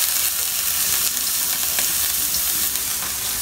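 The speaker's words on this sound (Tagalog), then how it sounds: "So ito guys, igigisa na natin yung ating soup." Sardine soup being sautéed in a little cooking oil, a loud, close, continuous sizzle and frying crackle with occasional stirring scrapes, no talking.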